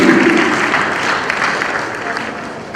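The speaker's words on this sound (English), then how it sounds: "A round of applause for them." An audience at an Edo State education policy launch gives applause for members of the National Association of Persons with Disability, a fairly loud, dense clapping that tapers slightly, with a voice briefly audible at the start.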